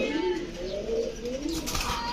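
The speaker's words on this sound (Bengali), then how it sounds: "অনেক কবুতর আছে" Soft, throaty pigeon cooing rolls on continuously, several birds close by, with a low murmur of background noise.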